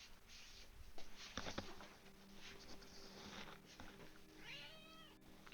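A pet cat begs for food, giving a faint meow with a rising, wavering tone near the end over quiet background rustling and patter.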